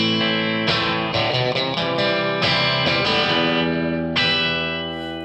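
Electric guitar played through an Overloud vintage amp simulation in rock mode, loud crunchy distorted chords struck a handful of times, each ringing out and the last one fading away.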